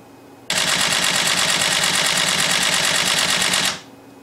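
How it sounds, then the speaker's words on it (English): Rapid burst of a Canon EOS-1D X shutter and motor firing consecutive shots, a dense, even mechanical chatter running for about three seconds, close and loud, with no voices. "let's try to take consecutive shots to see this, to hear the sound of the motor, the speed of the motor."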